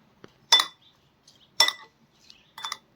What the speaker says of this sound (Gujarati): બધી વસ્તુને મિક્સ કરી લઈએ।